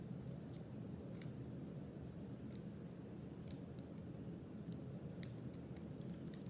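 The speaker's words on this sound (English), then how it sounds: "grab my scissors and open up them." Scissors snip open Pokémon card packs, a series of faint, sparse metallic clicks and cuts over a steady low background rumble.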